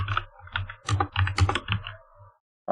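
Someone types on a computer keyboard while entering Python code. Fairly close, steady keystrokes run in a quick, uneven rhythm for about two seconds, then stop briefly before one last burst of keys, with no talk.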